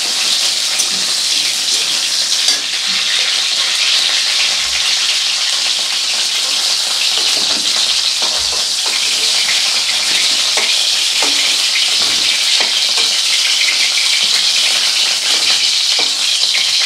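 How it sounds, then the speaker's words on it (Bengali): Vegetables lightly frying in a pan give a steady, dense sizzle that carries on unbroken, with occasional soft scraping and stirring knocks over it. "তো সামান্য হালকা করে এরকম ভেজে নিতে হবে।"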